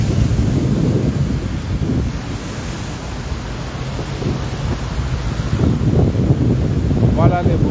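Heavy sea waves crashing against a seaside boulevard in Libreville, Gabon, with a constant roar of surf and strong wind buffeting the microphone, swelling in bursts, and faint voices in the background.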